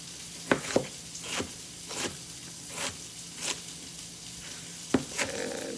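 A knife chops sliced onion into small chunks on a cutting board for a meatball sauce, giving about eight sharp, irregularly spaced taps over a low kitchen background with no speech.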